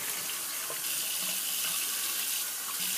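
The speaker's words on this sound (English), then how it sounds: "I'll just go ahead and rinse my hands off here. Rinse the soap off my hands." Running tap water splashing steadily as soap is rinsed off hands at a sink, a close, continuous broadband hiss with small spatters throughout.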